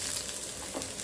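Chopped large onion frying in hot oil in a home kitchen, a steady, close hiss of sizzling that fills the whole moment without any talk.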